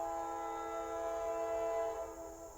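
A passing train sounds its horn in a long, steady, multi-tone blast that holds for a couple of seconds before fading slightly, heard from a moderate distance and quite faint, with no talking.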